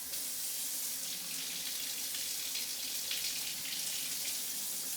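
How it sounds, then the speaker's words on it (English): Warm water runs steadily into a bowl of heaping tablespoons of sugar for Vietnamese-style egg rolls, a close, continuous hissing pour with no voices. "Then I'm going to put some warm water to dissolve the sugar."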